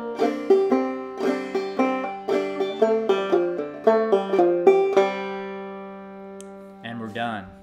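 A clawhammer banjo plays the ending of the fiddle tune Cold Frosty Morn, bright plucked notes in a quick bouncing rhythm that slow into a final ringing chord, followed by a short burst of talk.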